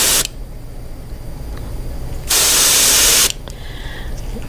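An airbrush sprays olive green paint through a stencil onto a Klash 9 Low fishing lure being repainted as a dark brown trout. There is a brief hiss at the start, a quiet pause, a louder sustained burst of about a second, then a faint tail.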